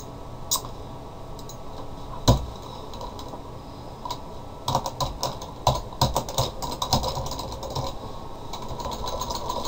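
Fingers type a name on a computer keyboard, with scattered single key clicks at first, then a busier run of quick, close taps, with no talking.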